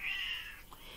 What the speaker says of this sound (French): C'est mon chat qui chante, là.